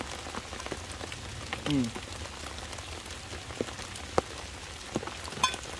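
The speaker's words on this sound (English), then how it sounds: "whenever it's raining like this" Steady rain falling at an ATV campsite on a cold night, a soft continuous patter with occasional sharper drips striking a nearby surface, quiet and close, with a brief low murmur partway through.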